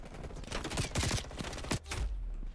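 Video game gunfire, a rapid volley of loud close shots and bursts that cuts off sharply before a lower rumble.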